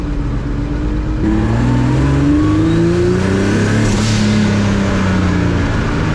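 A modified MX3 car engine runs loudly and close by, holding a steady drone with slight pitch rises and falls as it revs gently. No voices are heard.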